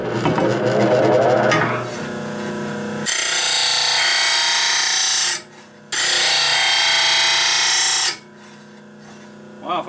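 A new grinder tool cuts a bevel into a wooden table edge, two long bursts of harsh abrasive rasping, each several seconds, following an earlier rumbling mechanical stretch.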